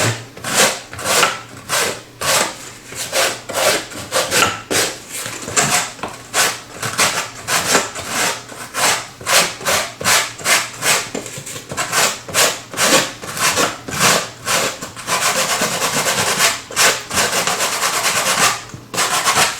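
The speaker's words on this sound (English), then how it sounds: "Generally, when sanding, you want to keep it in one direction" A piece of wood being sanded by hand for a small reef aquarium bowl: steady rhythmic rasping strokes, close and fairly loud, about two per second, continuing throughout with no talk.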